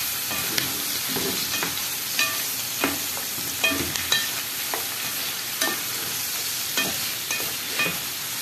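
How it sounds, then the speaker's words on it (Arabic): Pieces of lamb liver, kidney and heart frying in a pan, a constant sizzle broken by regular scraping strokes of a spoon as the offal is stirred. "هقلب بقى كله"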